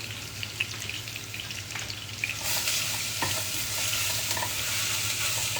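Food sizzling and frying in a pan while being stirred for a Ramadan keema cutlet, steady crackle with scraping stirs and a louder sizzle swelling partway through, close and without talk.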